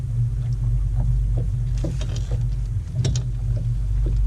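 A motorboat engine drones steadily nearby on Mound City Lake, a low constant rumble with water lapping and faint knocks over it.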